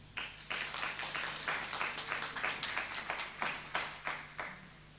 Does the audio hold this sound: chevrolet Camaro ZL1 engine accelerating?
no